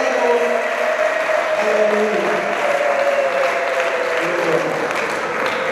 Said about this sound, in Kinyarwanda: Amashyi y'ingoma nyinshi cyane, amashyi y'ingoma nyinshi, ingoma nyinshi cyane, ingoma z'ababyeyi, amashyi cyane.